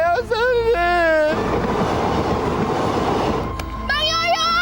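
A passing train gives a loud, close, broad rumble for about two seconds, with a shouting voice before and after it.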